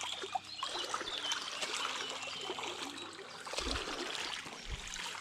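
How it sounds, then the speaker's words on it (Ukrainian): A small stream trickles and babbles steadily at low volume, with a couple of soft low thumps partway through. "Дивіться, яка річка гарненька."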